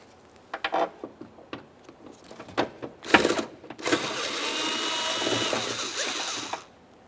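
A ratchet with an extension turns out a 4mm Allen mounting bolt on a rear exterior door handle of a 2015-2019 Subaru Outback. Short, close clicking bursts come first, then a longer continuous run of rapid ratcheting.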